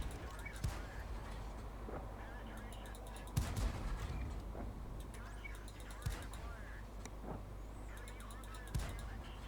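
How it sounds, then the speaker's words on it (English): Tank gun fire in World of Tanks, the Wolverine tank destroyer, sounding as a few sharp booms spaced several seconds apart over a constant engine rumble and game ambience, with a player talking throughout. "This gun fires so rapid."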